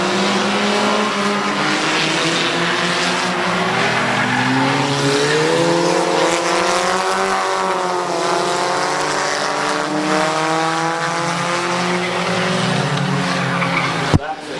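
Race cars at Midvale Speedway roar past with loud, sustained engine drone and shifting pitch as they lap close by, the revving steady throughout.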